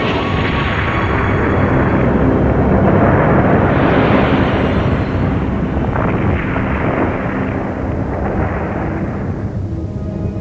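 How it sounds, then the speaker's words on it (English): A massive asteroid impact explosion roars as a deep, continuous rumbling blast with surging wind-like turbulence, very loud and sustained, swelling and shifting over its length. "A 100 million megaton explosion vaporizes New York City."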